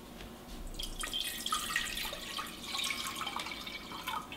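Water poured into a soup pot while making bitter melon soup at home: a continuous, close splashing and trickling pour lasting several seconds with no talk over it.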